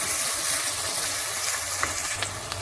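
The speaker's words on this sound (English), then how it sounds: "Add your lamb straight into the pan." Lamb fries on high heat in a pan with quartered green chili, a dense, loud, steady sizzle and crackle throughout, with a few small stirring taps near the end.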